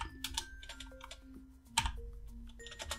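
Code is typed on a computer keyboard in a quiet room, a run of soft, close key clicks at an uneven pace, with one sharper tap partway through.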